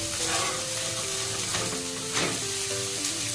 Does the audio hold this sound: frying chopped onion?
yes